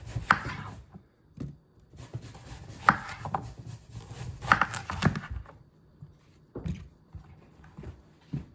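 A knife chops through zucchini and patty pan squash during bulk freezer prep, irregular close cutting strokes thudding on a board with soft rubbing between cuts and brief pauses.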